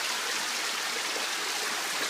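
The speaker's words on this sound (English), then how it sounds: "This is a glacial river underneath the glacier." Meltwater from a glacial river rushes beneath an Alaskan glacier, a dense, steady hiss of flowing water with no pauses, close and uniform throughout.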